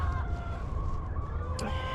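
Young backyard chickens clucking in a chicken yard in the morning, a continuous low flock chatter with a brief sharper squawk near the end, no talk.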